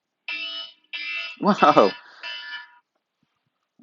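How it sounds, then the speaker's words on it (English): An alarm sounds in repeated electronic bursts, fairly close, as a voice briefly exclaims over it midway before it stops. "Random alarm."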